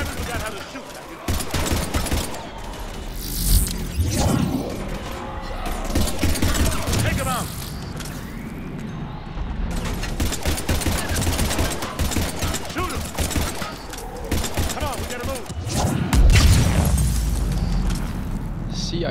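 Shooting in the video game Mass Effect 3 crackles in rapid bursts with booming impacts throughout, loud and busy, mixed with voices talking over the combat.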